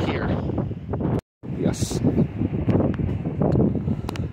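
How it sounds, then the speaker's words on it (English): Strong wind at the Trona Pinnacles buffets the microphone in loud, rumbling gusts throughout, with a brief dropout and someone speaking briefly beneath the roar. "it's incredibly windy"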